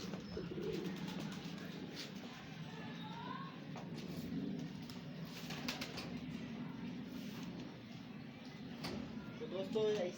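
Pigeons coo softly and repeatedly in a rooftop setting, a steady low murmur under distant voices and household noise, with a brief louder rustle near the end.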